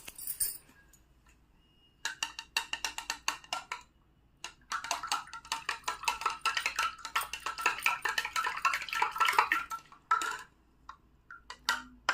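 A spoon stirs Assure creamy cleansing soap into water in a glass, making rapid, close clinks and taps in busy bursts separated by brief pauses.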